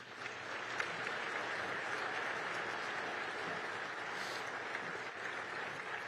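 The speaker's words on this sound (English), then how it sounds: "Please help me give Mayor Johnson another round of applause." Audience applause at a State of the City address in the El Paso Convention Center, a sustained, fairly distant wash of clapping from a large crowd with no talking over it.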